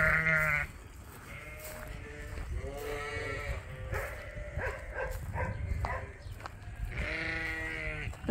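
Several sheep bleat in turns in a pasture, wavering calls close by, with short pauses between and a steady outdoor background.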